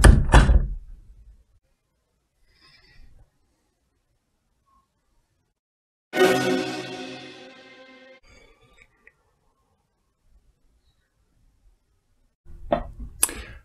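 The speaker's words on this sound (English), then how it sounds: "And close the door." A door is shut with sharp, close thuds, one at the start, a louder ringing bang midway and a final knock near the end, separated by long silent gaps.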